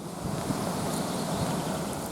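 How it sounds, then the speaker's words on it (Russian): Steady outdoor wind in a forest under overcast skies rushes and buffets the microphone, a continuous low roar with no voices. "Небо покрыто тучами, поднялся ветер"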